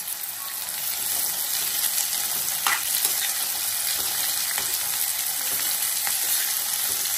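Chopped onions for an egg masala curry sizzle and hiss in a hot pan while being stirred, a steady, close frying crackle with occasional scraping clicks and no talk.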